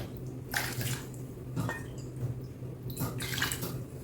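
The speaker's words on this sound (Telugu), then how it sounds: "కడిగేసి ఇప్పుడు 2 కప్పులు నీళ్లు పోసుకోవాలి" Water is poured into a pot of tamarind in a kitchen, coming as a few separate splashy pouring bursts with gentle trickling between them, fairly quiet and close.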